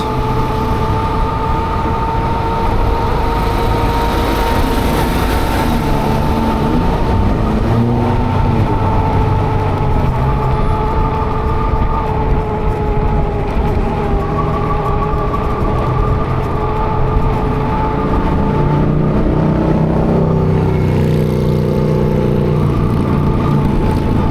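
A vehicle rolling on new knobby rear tires, a loud, continuous droning hum with tonal whine and low rumble, shifting pitch as speed changes.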